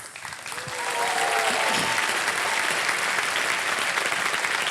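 Studio audience applause on a televised quiz show set, a dense sustained clapping that swells within the first second and holds steady and loud, with faint voices briefly audible at the start.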